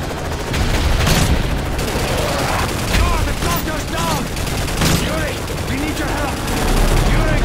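Dense rapid gunfire from Call of Duty: Modern Warfare 3, steady bursts of shots with occasional heavier booms running throughout, close and loud, with faint game voices mixed in.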